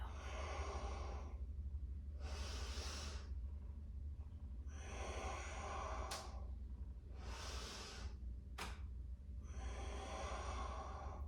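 Slow, deep breathing during a flowing yoga sequence: long inhales and exhales alternate in a steady rhythm, close and loud, with no talking over them.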